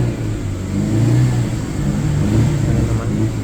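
A project car's carburetted engine revs steadily and loudly up close, a sustained mid-pitched roar that swells slightly twice without dropping off.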